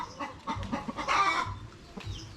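Chickens clucking close by on a Filipino backyard farm, a short burst of busy overlapping clucks and squawks.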